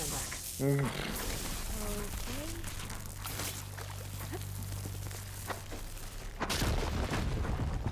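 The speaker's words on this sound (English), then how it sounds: "Well, that was loud. Yeah, it was an explosion." An explosion in the video game Horizon Forbidden West booms out beside a voice, followed by a sustained low rumble and a second loud blast near the end.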